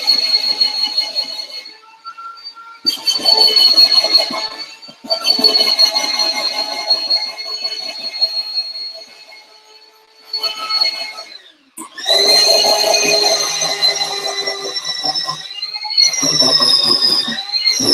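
A small kitchen food chopper runs in several bursts while chopping carrots, giving a high, strained whirring whine that cuts in and out with short pauses between runs.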